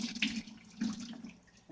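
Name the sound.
water running into beans being washed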